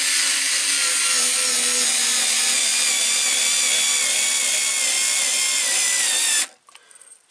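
A SKIL 2710 power screwdriver drives screws into wood with a loud, steady whirring whine that runs for about six seconds, then cuts off abruptly, followed by quiet handling noise.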